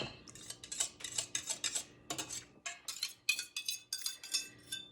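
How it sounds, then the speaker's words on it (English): Whisk rapidly beating yogurt starter into warm milk at 115 degrees, a quick, close run of bright metallic clinks and scrapes against the bowl in an uneven rhythm with short pauses between bursts. "I like to use my whisk to really get it in there good."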